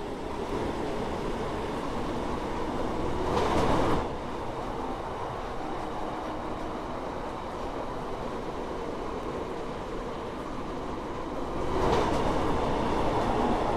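Class 156 diesel multiple unit in the Roblox game SCR running steadily on a Stepford Connect service, a continuous rumbling rail drone with two brief louder swells of passing noise, no talking.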